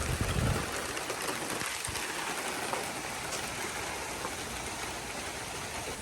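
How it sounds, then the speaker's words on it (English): Steady rain falls outdoors over a 2012 Chevy during battery removal, a broadband patter with a brief heavier burst of drops at the start, continuous and fairly close, with no talking. "Because it started raining"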